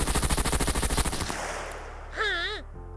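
Rapid burst of MP5 gunfire in the video game SCUM, a full magazine emptied into level 3 armor at point-blank range, dense machine-gun rattle for about a second, followed by quieter game effects and a brief rising-and-falling tonal sound.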